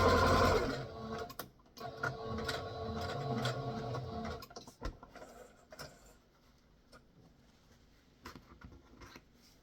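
A sewing machine stitches fabric for shirring with elastic, running in steady loud bursts at first, then slowing into quieter, intermittent stitching and faint mechanical ticks.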